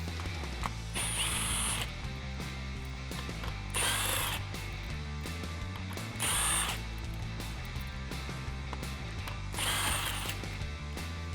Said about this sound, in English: the next step is to remove the bolts holding the belly shield in place itself